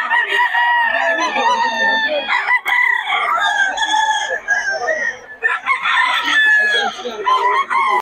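Sweater bloodline gamecock crowing and clucking up close in repeated bursts for several seconds, with other fowl calling around it and a voice faintly in the background.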